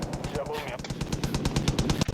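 Rapid automatic gunfire from a Far Cry 5 gameplay firefight, bursts of close, sharp shots repeating quickly for about two seconds with some speech-like sound mixed underneath.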